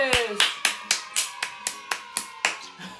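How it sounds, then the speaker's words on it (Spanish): A few people clap together with distinct, fairly loud hand claps in an uneven rhythm, greeting a batch of blue slime made with gloves, as a voice sounds faintly underneath. "con un fuerte aplauso recibamos al slime hecho con"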